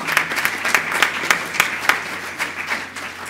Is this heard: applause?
yes